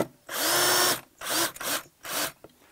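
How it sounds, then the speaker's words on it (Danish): A power drill countersinks screws into the wooden boards of a garden bench: three loud, close whirring bursts, the first about a second long and the next two shorter, with brief pauses between them. "Fordi jeg vil gerne forsinke skruerne en lille smule."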